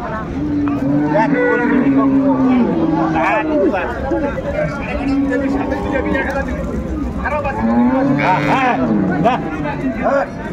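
Cows low several times at a busy cattle market in Ambari, Dinajpur, where a cow and her calf are shown, with the moos rising over constant crowd chatter and nearby voices.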